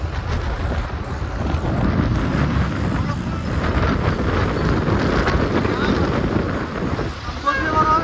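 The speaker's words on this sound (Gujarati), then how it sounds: "જોરથી બોલવું પડે, ફૂલ પવન છે." Strong wind roars steadily into the microphone beside the Tapi River near Surat, a dense low rumble throughout, with faint voices partly buried under the buffeting.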